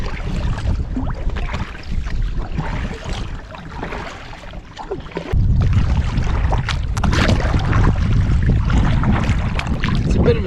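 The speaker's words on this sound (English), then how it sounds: "I'm sure you can hear the wind in the microphone." Strong wind buffets the microphone while kayaking into a headwind on the Tay River near Perth, a continuous low roar with gusts that grow louder and denser in the second half, with faint water and paddle noise beneath.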